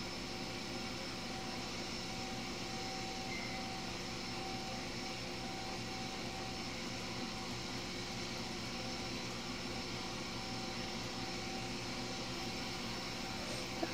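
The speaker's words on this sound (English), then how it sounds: "you can hear my vacuum cleaner" A vacuum cleaner drones steadily throughout, a constant broadband whine with a low hum, unchanging and fairly close.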